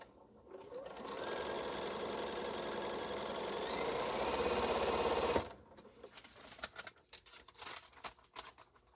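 A sewing machine stitches string quilt blocks in one continuous, fast, even run lasting about five seconds, nearby and loud, then stops abruptly, followed by faint handling clicks and rustles.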